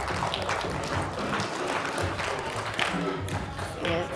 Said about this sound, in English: Give a round of applause to Daisha Board.